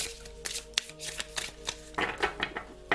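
A new deck of mudra oracle cards is shuffled close by in quick papery riffles and slides, with soft repeated flutters and snaps over a few seconds.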